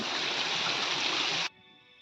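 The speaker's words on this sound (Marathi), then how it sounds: "हे वरचं पाणी खाली पडतंय मित्रांनो" Water spilling down from a small dam where the stream is held back above, a dense, steady rushing roar up close that stops abruptly after about a second and a half.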